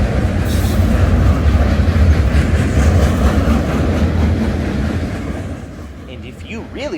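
A freight train hauling large pipes rolls through downtown Toccoa, Georgia, with a steady loud rumble and clatter of wheels on rails, fading slightly near the end as a faint squeal rises.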